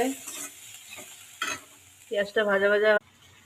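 Chopped onions fry in hot oil with cumin seeds in a wok, giving a close hiss and sizzle broken by stirring scrapes, with a loud, sustained sizzling burst near the end.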